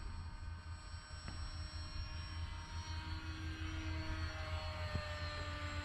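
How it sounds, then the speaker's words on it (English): A small RC plane with a pusher propeller drones steadily at a distance, a constant buzzing hum with faint rising and falling pitch. "Anytime you have a pusher prop, they're just inherently noisy."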